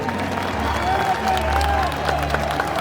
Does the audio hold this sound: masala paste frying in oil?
no